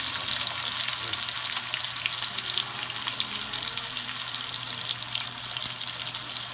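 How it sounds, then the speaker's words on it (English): Meat sears in a very hot pan of vegetable oil, giving a loud, steady, close hiss and crackle throughout with a single brief clink near the end. "you gotta get your pan real hot. I use vegetable oil, no butter"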